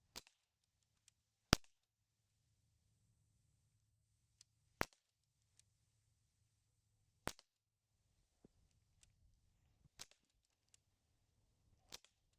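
An air gun fires at a target in a row of five or six sharp, isolated cracks about two to three seconds apart, with faint small clicks between shots and no talk.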